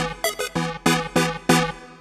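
An urban sample patch played in the Serum synthesizer, five or six bright plucked synth notes in quick succession, each decaying fast, played alone.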